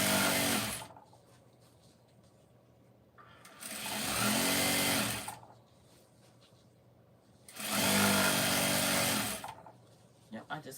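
A sewing machine stitches in bursts while seams on craft orders are sewn straight through, running in three loud stretches of steady whirring with quieter pauses between them.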